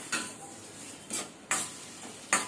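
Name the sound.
frying and stirring ingredients in oil in a pan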